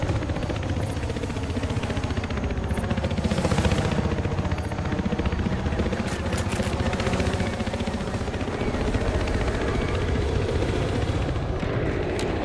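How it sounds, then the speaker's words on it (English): A transport helicopter in the video game Battlefield Hardline flies close and loud, its steady rotor roar running the whole time under scattered gunfire. "Spotted a transport chopper! Hey! Transport chopper!"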